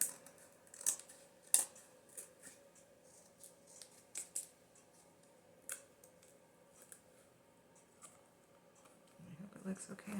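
Scissors snip a thin sliver off the edge of a vintage-style journal cover, a few sharp close clicks spaced apart with quiet handling sounds between.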